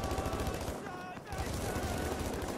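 Rapid suppressing gunfire in the Battlefield V video game, dense bursts of shots crackling continuously for a couple of seconds at moderate volume with a brief gap in the middle.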